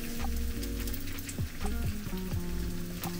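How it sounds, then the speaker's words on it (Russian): Kutabs frying on a very hot pan with almost no oil, giving a steady bright sizzle with crackles and pops throughout, alongside some low clattering and tonal kitchen noise. "Теперь будем класть наши кутабы на раскаленную сковороду."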